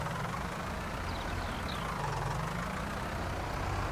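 A 90-horsepower Huerlimann tractor in Farming Simulator 19 strains its engine with a raised cultivator, giving a steady, loud low rumble that drones on unbroken throughout.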